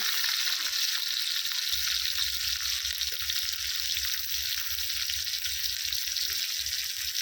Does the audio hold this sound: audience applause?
no